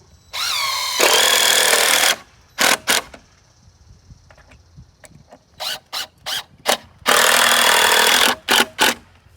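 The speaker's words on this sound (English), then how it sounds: "I'm using a Craftsman cordless drill" A Craftsman cordless drill whirs in two sustained bursts near the start and end, separated by several short trigger pulses; close and fairly loud.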